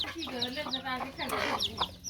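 Hens and young chicks peck at broken rice grains, with soft repeated clucks and cheeping calls close by in a quick, uneven rhythm.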